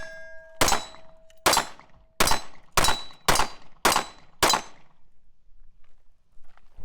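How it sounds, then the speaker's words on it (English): 9mm pistol fired at Motobilt and factory Jeep Wrangler JLU Rubicon differential covers from about 10 to 15 yards: seven sharp shots in an even rhythm, each with a ringing metallic clang of impact, followed by quiet. "we are going to shoot them with a 9mm"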